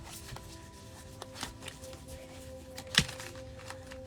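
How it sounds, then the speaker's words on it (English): Tarot cards being shuffled by hand, soft repeated riffling and patting taps with a sharper slap near the end, close and quiet with no talking. "you just continue to shuffle them."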